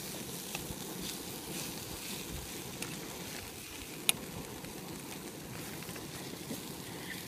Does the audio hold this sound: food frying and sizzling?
yes